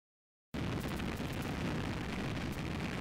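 Atlas V rocket launching the Lucy mission, its engines giving a loud, steady, dense roar with crackling rumble that bursts in after a half-second of silence and holds unbroken to the end.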